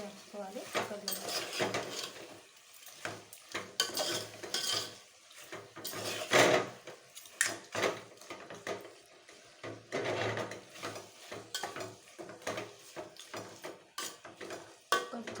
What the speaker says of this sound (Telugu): ఇప్పుడు కలుపుకున్న చికెన్ దీంట్లో వేద్దాం. దీన్ని మసాలా అంతా దీంట్లో కలిపేసుకోవాలి.